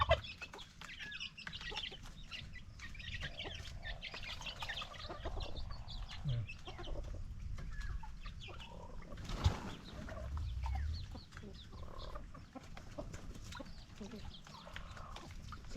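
Hens and a rooster cluck softly in a farmyard among chicks and a turkey, faint and steady against a busy outdoor background, while a person talks over them.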